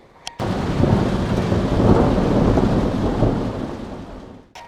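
A farmstead thunderstorm with close lightning brings heavy, torrential rain and a long, rolling rumble of thunder that swells and fades over several seconds, framed by sharp clicks at the start and end.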